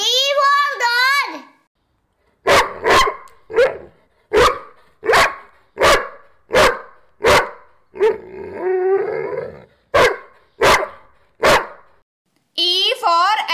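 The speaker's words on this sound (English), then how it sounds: "D for dog. D for dog." A dog barks about ten times in a steady, evenly spaced series, loud and close, with a voice speaking just before and after.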